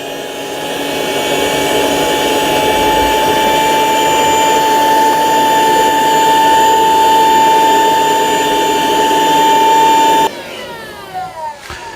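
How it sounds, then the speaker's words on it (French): A vacuum cleaner sucks up loose flocking from the courtyard scenery of a model layout, a loud steady whine with a high tonal hum running for about ten seconds before cutting off abruptly, leaving faint rattles. "L'aspirateur tout de suite pour récupérer le flocage."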